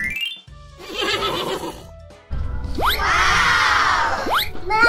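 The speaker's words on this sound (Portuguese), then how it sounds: "que cavalo bonito" A horse neighs loudly in a long, shrill whinny with quavering trills, following shorter vocal sounds and a noisy background of crowd-like hubbub.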